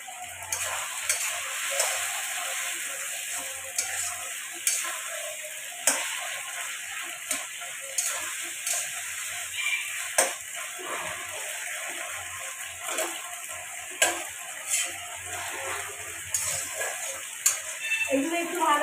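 Kashmiri chillies fry in oil in a pan for chilli fish, giving a steady close sizzle with regular clicking and stirring taps on the pan. A voice speaks intermittently over the frying.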